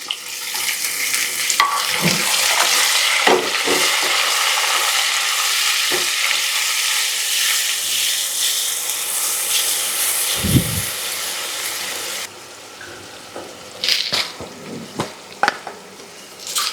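Chopped ginger, green chillies and tomatoes fry in a pan for wheat rava upma, giving a loud, steady sizzle with scattered stirring clinks, softening near the end to quieter spitting and scraping.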